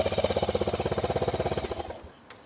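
A Honda CB400SS motorcycle engine runs with a fast, even, loud chugging pulse that stops abruptly near the end, followed by faint ticking.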